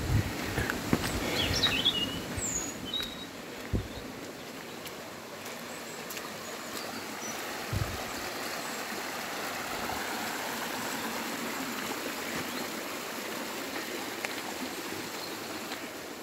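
A small mountain beck flows steadily with a continuous close rushing and babbling, a few birds chirping and occasional footsteps or bumps from someone walking beside it on a fell path.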